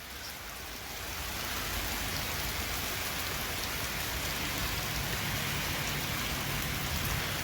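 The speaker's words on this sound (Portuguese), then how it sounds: "chuva já vem de verdade" Steady rain falls in a continuous wash of drops on surfaces nearby, rising at the start and then holding an even, moderately loud hiss throughout with no voices.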